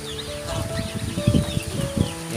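Several domestic geese honk and squawk in short bursts at close range, a noisy cluster of calls over a steady background hum.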